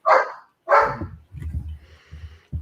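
Two sharp, close dog barks in quick succession, followed by a low rumbling and a faint ringing tone.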